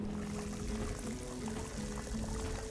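Water pours steadily into a container for the whole stretch, a continuous close splashing stream with no talk over it.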